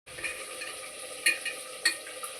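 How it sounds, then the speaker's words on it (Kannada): Masala sizzles in hot oil in a home kitchen pan while chicken biryani is being made, with a steady frying hiss and a few sharp scraping stirs of a spoon against the pan. "ಹಸಿ ವಾಸನೆ ಹೋಗ್ಬಿಟ್ಟು ಆಯಿಲ್ ಸ್ವಲ್ಪ ಮೇಲ್ ಬರೋವರೆಗೂ ನಾವು ಅದನ್ನ ಫ್ರೈ ಮಾಡಕ್ ಬಿಟ್ಬಿಡ್ಬೇಕು"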